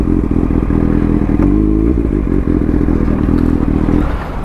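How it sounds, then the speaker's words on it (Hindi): A motorcycle on a busy street in Dumka, Jharkhand, is shoved aside by hand with its engine running, giving a loud steady engine drone over clattering, scraping and thudding. "बाइक को थोड़ा वहाँ साइड में कर देते हैं"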